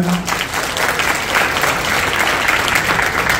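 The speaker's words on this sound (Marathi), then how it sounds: "माझ्या सहकारी मित्रमैत्रिणींसाठी जोरदार टाळ्या." An audience at a Marathi talk gives hearty applause for colleagues: dense, steady clapping from many hands that holds strong for several seconds, with no voices over it.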